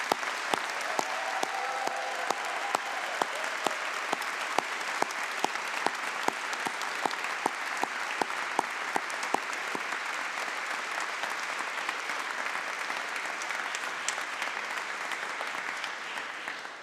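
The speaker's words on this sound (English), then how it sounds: "how about one more round of applause for the 2017 graduating class" Sustained applause from a graduate convocation audience at Syracuse's Maxwell School for the 2017 graduating class, a thick wash of clapping with crisp individual claps, continuing steadily before gradually thinning.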